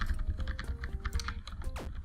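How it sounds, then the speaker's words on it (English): Computer keyboard keys pressed while playing The Escapists: a quick run of close, crisp clicks and taps, with faint electronic game tones underneath. "damn keyboard pressing"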